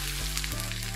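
Whole coriander, cumin and fennel seeds crackle and sizzle in hot oil, a bright continuous hiss, close and brief, with faint low background hum.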